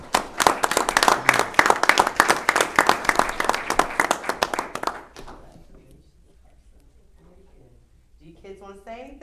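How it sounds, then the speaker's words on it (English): A room at a board of education meeting breaks into brisk applause, many hands clapping in a dense rhythmic patter for about five seconds before it fades out, followed by quiet murmuring and a voice near the end. "Please give them a big round of applause."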